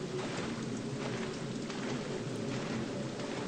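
Steady rainfall in the horror video game Fatal Frame: Maiden of Black Water forms a dense, continuous hiss of drops with no pauses and no voices.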